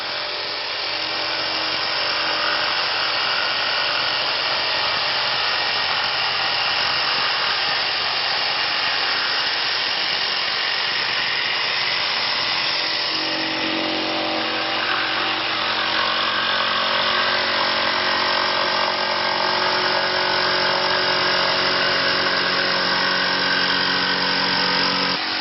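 A power saw cuts through a laminate countertop, a long, loud, continuous whine that shifts in tone partway through the cut, heard up close with no talk.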